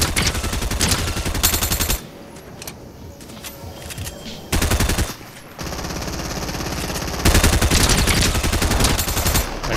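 Rapid automatic gunfire from a first-person shooter video game, sounding in several loud, dense bursts of a few seconds each, separated by brief quieter stretches of game ambience.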